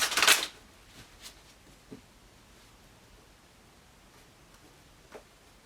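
A brief burst of cards being riffled and shuffled at the start, followed by quiet with a few faint soft taps.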